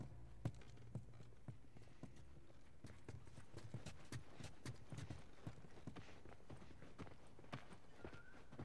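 Horse hooves clip-clop in The Last of Us video game, a steady run of distinct, fairly quiet hoofbeats at walking pace across the whole stretch.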